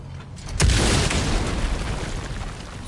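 A bomb explodes in a video game set in Alfheim: a sharp, loud boom strikes early, then a long rumbling roar and debris rush trail off for several seconds, with no talking.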